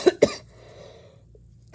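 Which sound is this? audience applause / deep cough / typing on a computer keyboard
deep cough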